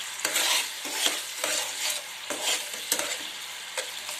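Food sizzles steadily in hot oil in a pan while cooking tamarind rice, with rhythmic scraping from stirring layered over the constant frying hiss.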